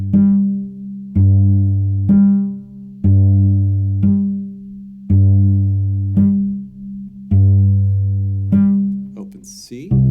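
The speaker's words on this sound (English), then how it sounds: "open G, fourth finger G." Cello notes played alternately on open G and fourth-finger G, eight sustained bowed tones in even succession, close and clear with no talk.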